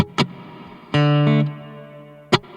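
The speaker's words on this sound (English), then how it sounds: "Listen to that reverb." Two sharp plucked electric guitar notes through a Valeton GP-200X multi-effects processor's reverb ring out with a long reverberant tail, followed by a sustained chord that decays into lingering echo before another pluck.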